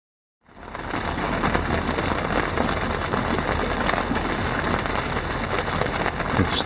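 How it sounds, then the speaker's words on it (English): Steady, heavy rain pours down, a dense continuous hiss that begins abruptly and holds at a constant loud level. "in a pretty decent rain, which has flattened the water out some"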